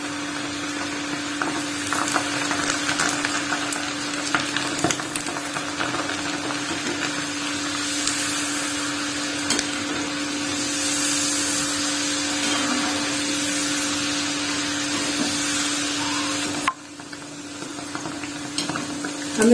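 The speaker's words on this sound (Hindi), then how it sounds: "हमें इसे जब तक तलना है जब तक कि इसकी आवाज ना आए और अंदर तक फ्राई ना हो जाए" Chana dal namkeen deep-frying in hot oil, a dense, continuous bubbling hiss with a low steady hum underneath, loud and close, lasting the whole stretch before briefly dropping near the end.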